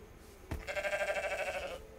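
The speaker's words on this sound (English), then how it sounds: "It's a sheep, it's a sheep, it's a sheep, sheep, sheep." Sheep bleating in the video game Rising World, a single drawn-out, wavering bleat close up after a brief thump, with quiet background ambience.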